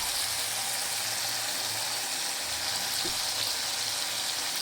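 Tomatoes cooked down with ginger paste sizzle and fry steadily in a pan, a continuous close hiss with a faint scrape of stirring partway through.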